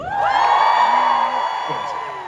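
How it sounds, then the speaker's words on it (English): An audience at a Comic Con panel in London cheers and whoops, a sustained loud burst of crowd noise that slowly fades, with voices rising above it. "Give a cheer for the book."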